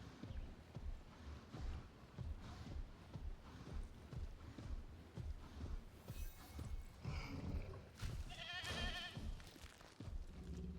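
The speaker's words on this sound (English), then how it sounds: "but I suddenly heard a goat noise." A goat bleats in the Jurassic World Evolution 3 park game, with a few short nasal calls late on over a busy bed of soft hoof-like clopping and ambient game sounds, fairly faint.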